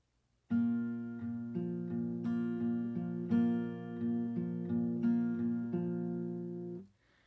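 A steady fingerpicked acoustic guitar pattern, evenly paced notes repeating over held chords, clear and close, fading at the end.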